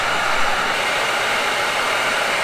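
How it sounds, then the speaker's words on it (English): A hair dryer blows continuously with a loud, steady rushing whoosh, close up and unchanging throughout. "My hair dryer."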